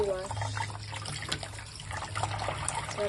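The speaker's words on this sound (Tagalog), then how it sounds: "Final wash. That's a lot of water." Running water splashes steadily over kangkong leaves being washed in a sink, a continuous trickling wash with faint clinks and a low hum in the background.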